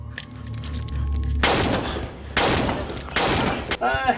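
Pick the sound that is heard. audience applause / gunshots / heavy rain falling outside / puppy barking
gunshots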